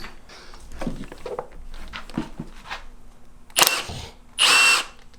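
A power tool drives the spring compressor tightening an Eibach lowering spring on a 2015 Dodge Challenger, heard as two loud, close whirring bursts near the end after quiet handling noises.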